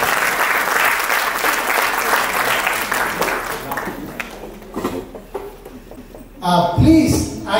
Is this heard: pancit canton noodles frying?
no